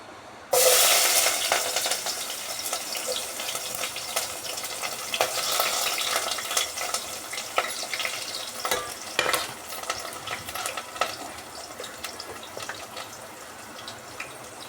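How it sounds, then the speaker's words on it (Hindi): Hot oil in a cooking pot bursts into loud sizzling and spluttering all at once, then keeps up a steady, close frying crackle with sharper pops throughout, and nobody speaks. "इसमें जब तेल डालूंगी, वरना तो चटर पटर हो जाती है, छींट वगैरह आ जाती है"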